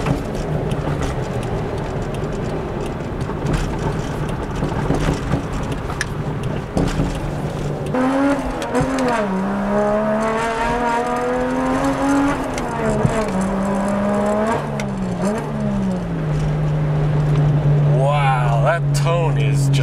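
A Toyota Chaser JZX100 engine idles and then revs through several rising and falling sweeps at a JDM expo. The tone grows louder and fuller toward the end, and voices sound faintly beneath it.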